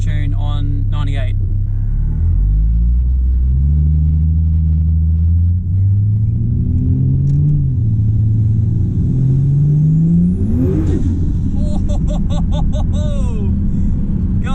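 Big-turbo Ford Falcon XR6 engine on E85 with low boost, a loud, close rumbling idle that climbs through rising revs before easing off, with a person talking over the engine.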